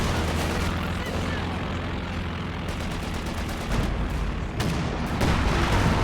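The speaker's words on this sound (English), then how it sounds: "Bunker busting barrage coming in onto the M1, which returns fire with the AP ammo" Artillery barrage from a Company of Heroes 2 match, with bunker-busting shells landing while an M1 gun returns armour-piercing fire: a dense, continuous rumble of battle noise with scattered blasts and a couple of sharper impacts toward the end.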